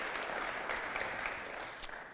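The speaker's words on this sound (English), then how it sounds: "shouldn't we just give Knud and Natasha a round of applause just for having us here" Brief, fairly faint applause from a conference audience, a soft even patter of hands.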